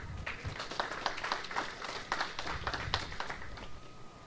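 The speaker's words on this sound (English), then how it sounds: "Give God a hand clap." A church congregation at a Thursday evening service claps hands together in a quick, fairly even burst of applause, moderately loud across the room.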